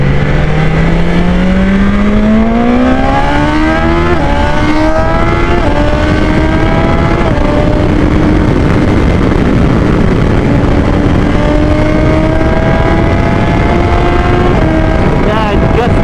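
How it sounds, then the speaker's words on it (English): Loud, steady BMW S1000 XR motorcycle engine and exhaust drone rising in pitch as it accelerates through gears while riding, with heavy rushing wind roar throughout. "there's a lot of wind noise, there's a lot of unwanted noise you will hear, the exhaust note and stuff"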